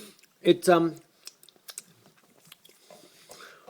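A Tootsie Roll caramel candy being bitten and chewed close to the mic, with a few soft crunchy bites early on followed by quieter, sparse chewing sounds.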